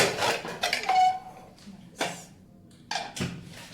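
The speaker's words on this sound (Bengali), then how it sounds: "আমি এই যে কুকারের ঢাকনাটা খুলে দিলাম" A pressure cooker lid is pulled off after cooking pumpkin halwa, giving a few close metallic scrapes and clanks in separate bursts with quiet gaps between them.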